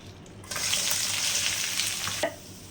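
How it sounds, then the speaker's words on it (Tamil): Shallots and dried red chillies dropped into hot oil, a sudden loud sizzle bursting in and hissing steadily for nearly two seconds before cutting off, with faint stirring clatter. "அந்த எண்ணெயில் நம்ம சின்ன வெங்காயமும் வரமிளகாயும் சேர்த்து போட்டுக்கலாம்"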